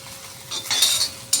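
Okra palya stir-frying in a pan with oil, a bright hissing sizzle swelling in bursts as the pieces are tossed and scraped, close and fairly loud with no voices.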